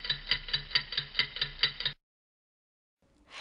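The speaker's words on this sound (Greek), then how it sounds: "Ένα ρολόι που κάνει τικ-τακ." A clock ticks in a steady, even rhythm, clear and close for about two seconds, then stops; a faint hiss of another sound rises at the end.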